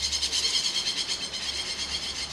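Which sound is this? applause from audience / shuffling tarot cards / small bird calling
small bird calling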